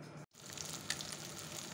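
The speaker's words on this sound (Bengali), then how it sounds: "মাছগুলো ভাজা বসিয়ে দিয়েছি" Fish frying in a pan gives off a steady, faint hiss of sizzling oil, continuous after a brief cut near the start, with no talking.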